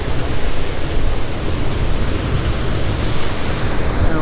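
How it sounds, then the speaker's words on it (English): Rough sea with large waves crashing at the Giant's Causeway coast in Ireland, a steady, loud roar of surf with broadband wash and some wind, no voices. "This sea is rough. Look at the size of those waves."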